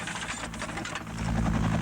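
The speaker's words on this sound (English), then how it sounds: "An Afghan Air Force Mi-8 attack helicopter arrives." Steady Mi-8 military helicopter rotor and engine drone, a low mechanical thrum with fluttering texture that swells louder toward the end.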